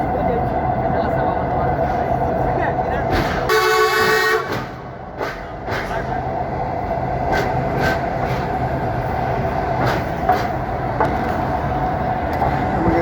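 A train crossing the Padma bridge rumbles steadily and loudly from inside the carriage, with a brief harmonic horn-like blast about a third of the way in and occasional rattles and clanks.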